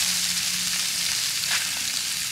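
Fish cakes fry in a pan with a loud, steady, close sizzle of hot oil, crackling evenly throughout without any talk.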